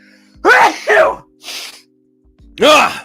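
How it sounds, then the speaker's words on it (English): A sneeze in two loud bursts, a brief breathy catch, then a third forceful sneeze, all close to the mic with no talking. "I'm about to sneeze."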